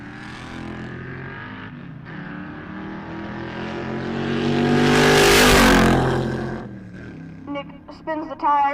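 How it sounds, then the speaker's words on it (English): A Stingray Corvette spinning its tires at a drag strip, a roaring engine that swells to a loud peak of tire squeal and screech before cutting off, with a commentator talking over it. "Nick spins the tires."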